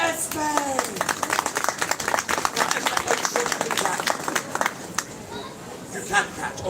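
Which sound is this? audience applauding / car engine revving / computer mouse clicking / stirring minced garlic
audience applauding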